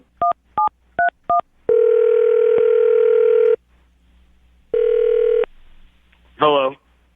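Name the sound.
telephone dial tone and dialing a number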